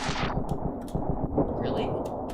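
Gunshots in the Ravenfield video game crack in a quick, repeating rhythm, loud and close, with a voice talking over them throughout.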